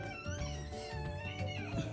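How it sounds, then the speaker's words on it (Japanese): A cat meows faintly indoors, a few soft tonal calls over steady background noise, with no clear speech. "にゃんこ。"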